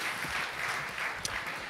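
Audience applause at a national science competition awards ceremony, a steady wash of clapping for under two seconds at moderate level, with no talk over it.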